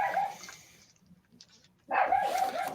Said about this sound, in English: look out the window and bark at everything he sees